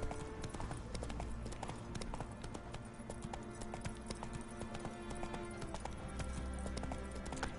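Hooves of the horse Roach clip-clop in a steady galloping rhythm throughout a stretch of Witcher 3 gameplay, moderately loud under continuous game music and ambience.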